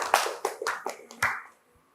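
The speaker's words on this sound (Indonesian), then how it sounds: "tepuk tangan dulu untuk teman kita Adit" Students in a classroom giving a short burst of hand clapping, a handful of loose, uneven claps over about a second and a half before stopping.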